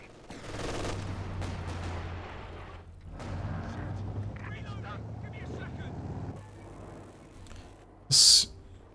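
Machine gun fire in a competitive 2v2 strategy video game: rattling bursts of gunfire come in clusters over a low battlefield drone, then a sharp, loud crack near the end, with talk heard faintly.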